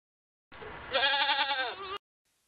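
A goat bleats once, a wavering nasal call lasting about a second and a half, loud and close with no other sounds around it.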